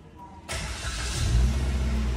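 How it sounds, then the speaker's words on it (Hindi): A Maruti Suzuki Baleno engine fires up from its push start button, cutting in abruptly after a brief quiet moment and settling into a steady, close idle rumble that grows slightly louder. "मैं स्टार्ट बटन दबाव पुश बटन"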